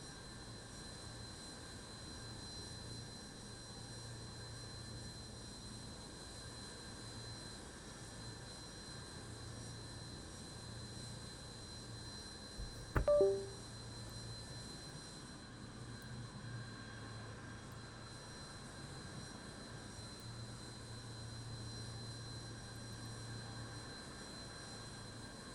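The Antonov An-225's engines drone steadily during pushback in Microsoft Flight Simulator, a faint, even, low hum that holds throughout with one brief click partway through.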